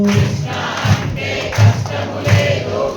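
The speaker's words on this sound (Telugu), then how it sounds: "ఇప్పుడు చప్పట్లు కొడుతూ కృష్ణ అంటే కష్టము లేదు," A devotional crowd chants Krishna's name together with rhythmic clapping, loud and close, repeated beats roughly every second under the group voices.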